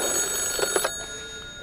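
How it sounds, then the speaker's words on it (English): A telephone rings in the first-person shooter Industria, heard as a few short bell-like trills early on and then fading out, with no one speaking. "Gotta answer the phone calls early morning."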